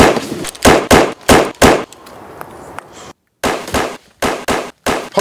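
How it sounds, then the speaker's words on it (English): Gunshots crack in a movie scene, a loud series of sharp reports in quick bursts, spaced in a rough rhythm with short pauses and a silent gap midway. "Hold on, listen, the shots fired. Shots fired."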